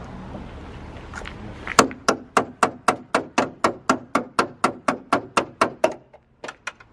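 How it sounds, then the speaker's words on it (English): A big hammer strikes a BMW E36 320i car bonnet about a dozen times in a steady, even rhythm, each blow sharp and ringing, close by, followed by a few softer taps. "Then you get a big Hammer, which is there."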